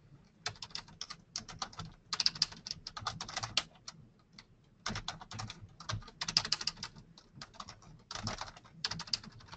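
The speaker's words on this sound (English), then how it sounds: "If I can type right." Bursts of typing on a computer keyboard, steady runs of close, crisp key clicks separated by short pauses, heard alone with no speech.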